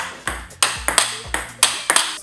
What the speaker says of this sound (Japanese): R の方がしっかり食い込ませて打ってる部分、高い音が鳴ってるんですよ